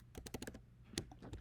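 Several quick keystrokes tap on a computer keyboard, a brisk cluster of close, crisp clicks followed by a brief gap and a few more taps, fairly quiet overall.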